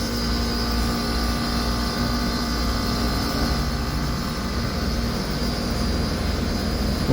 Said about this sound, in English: Just want the fans to crank.